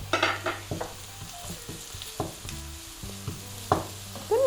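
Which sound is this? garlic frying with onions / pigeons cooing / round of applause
garlic frying with onions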